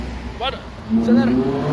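Old Mercedes S63 on a city avenue revs and accelerates, its engine note rising in pitch with a sweeping whine. A voice talks over the start of it.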